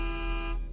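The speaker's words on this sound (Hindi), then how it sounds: "उस ट्रक ने इनकी गाड़ी को तेज टक्कर दी और लगातार हॉर्न बजाता रहा" A truck horn in an animated story: one loud, steady, buzzing blast held for under a second, sounding alone.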